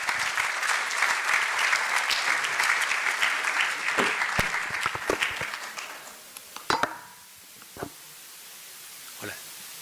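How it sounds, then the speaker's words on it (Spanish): A conference audience gives dense, sustained applause at a panel discussion on US tariff policy and the Chilean economy. The clapping fades out after about six seconds, leaving a few scattered late claps in a quiet room. "Maximiliano, por favor, un aplauso."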